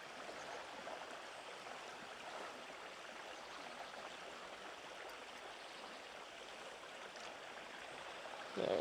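A fast, strong river current flows steadily around a wading angler out trout fishing, a constant broadband rush of water close by with no talk, ending in a brief louder splash.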